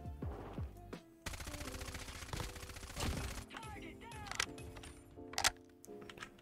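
Rapid bursts of machine pistol fire in the shooter game COD Mobile come as sharp, dense rattling volleys with short pauses between them, loud and close amid other game effects.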